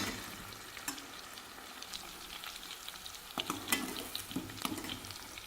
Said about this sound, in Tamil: முக்கால் வேக்காடு வேகணுங்க எண்ணெயிலேயே